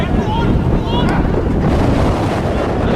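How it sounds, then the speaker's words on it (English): Strong evening wind roaring across an open football ground during the Hendon versus Staines Town Middlesex Senior Challenge Cup final, loud continuous buffeting on the microphone with faint voices under it. "it really is windy this evening"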